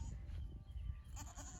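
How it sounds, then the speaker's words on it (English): Baby goats bleating on a farm, a few short high cries rising over steady low rumbling background noise, fairly close. "There's the baby goats."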